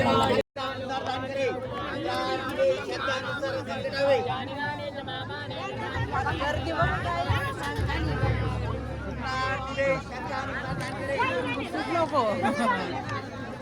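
Crowd chatter fills a large temple in Ujjain, a steady close babble of many voices with footsteps and movement, and someone speaks nearby over the din.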